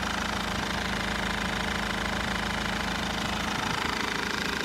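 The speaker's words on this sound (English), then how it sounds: "let me turn this engine off." A Nissan NP300 D23 diesel engine with a blown head gasket runs steadily nearby, a continuous rough, knocking idle with a constant drone and no talking.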